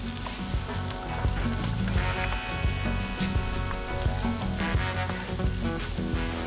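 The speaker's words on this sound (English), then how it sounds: "I'm going to put it on the stainless steel grill grate here so I can make my side dishes over here." Argentine choripan sausages sizzling on a stainless steel grill grate, a loud, steady crackle of frying fat with scattered pops and spits throughout, no talking.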